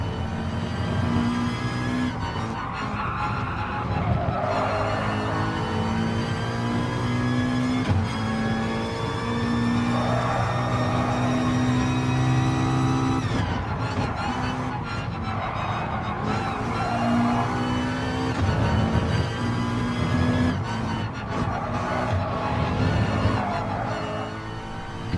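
A race car laps the Sainte Croix circuit in Gran Turismo Sport on worn tyres, its engine droning steadily with rising and falling revs through the gears, plus occasional tyre scrub in corners, loud and continuous throughout.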